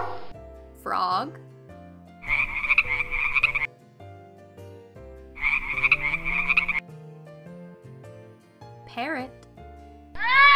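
A frog croaks in repeated rattling bursts, two clusters of rapid pulsing croaks a few seconds apart, close and clear, with short squeaky voice-like calls in between.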